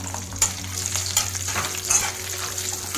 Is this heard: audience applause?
no